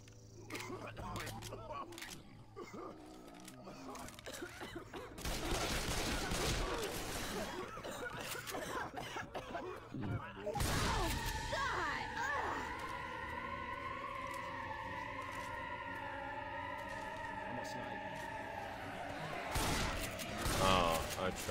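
Gunfire from the zombie video game Left 4 Dead 2 comes as a dense burst of shots in the first half. Brief bangs follow under ongoing game sounds and tonal music, and voices speak over it.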